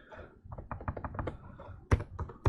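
Quick bursts of keystrokes on a computer keyboard, a run of steady taps followed by a few louder, sharper key hits near the end, close and alone.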